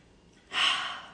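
A deep breath in, a single close, airy inhale that swells quickly and tapers off, with no other sound around it.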